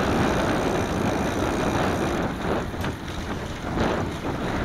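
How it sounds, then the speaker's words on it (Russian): Steady wind buffeting the microphone while riding a bicycle along a sandy forest trail, a continuous broad rumble and hiss with slight swells, no talking. "Вроде ветер не сильный."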